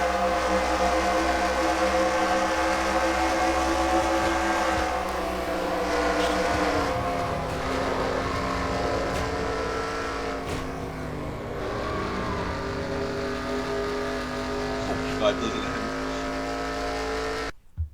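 Onboard race car engine in a NASCAR racing video game, a steady high-revving drone at near-constant loudness with shifting pitch, ending in a sudden cutoff.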